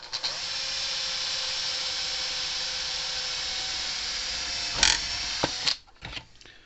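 A small power drill with a small bit drills a pilot hole, whining steadily at high pitch for several seconds, then slows and stops with a few short bursts and clicks.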